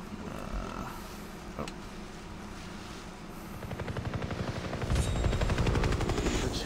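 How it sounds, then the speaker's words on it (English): A helicopter in the video game Far Cry 3 thumps with rapid rotor beats that grow louder and closer over several seconds, building into a dense, pulsing chop. "Chopper."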